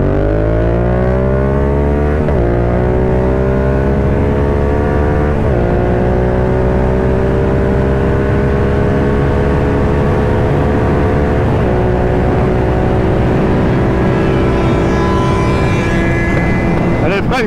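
Two motorcycles, a 2020 Yamaha MT-07 restricted for A2 and a Yamaha XJ6, accelerate hard from a standstill, engines rising loud and close through repeated gear changes with no talking.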